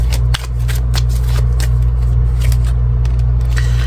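A deck of tarot cards is shuffled by hand in quick, papery riffling bursts that sound close and clear over a steady low background drone.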